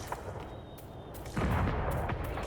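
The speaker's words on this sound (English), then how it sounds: "Well, I made it to the fireworks." Fireworks burst in the Dragon Age Inquisition Trespasser video game as a scatter of distant crackles and muffled booms. A stronger rumbling burst follows midway over a low, steady background, with no talking.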